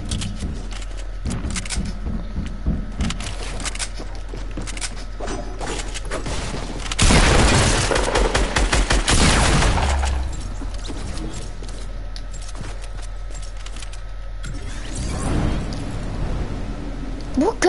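Video game gunfire bursts in rapid volleys, loudest in a dense stretch around the middle and tapering after, over a steady low background rumble from the game.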